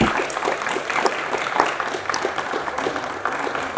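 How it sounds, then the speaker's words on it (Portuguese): An audience applauds at the close of a talk, a dense, steady patter of many hands clapping for several seconds. "um aplauso para o Renato"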